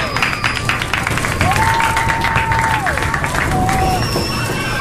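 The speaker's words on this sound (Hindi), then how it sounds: "जोरदार तालियां हो जाए।" A crowd at a Holi gathering applauds and cheers, steady clapping mixed with shouts and babble throughout, with a whistle-like tone sliding in and out over the noise.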